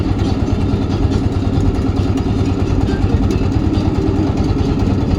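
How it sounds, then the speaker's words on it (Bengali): A large boat's motor chugging past close by, a loud steady low rumble with a rapid pulsing throb that stays even throughout. "গাইস আমাদের সামনে দিয়ে নৌকা যাচ্ছে এখন।"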